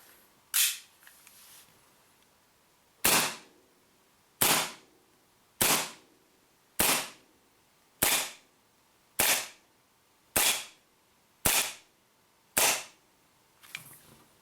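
Ten sharp, loud gas-powered shots from a CO2 1911-style BB pistol fired over a chronograph, spaced about a second apart in a steady rhythm, with a faint hiss in between and no talking.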